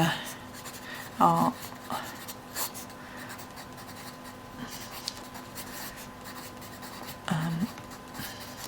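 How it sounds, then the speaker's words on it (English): Pen or pencil scratches across paper while handwriting notes, soft close scribbling strokes, with a couple of brief louder bumps and quiet breathing between, no speech. "Sorry, I'm scribbling and not talking"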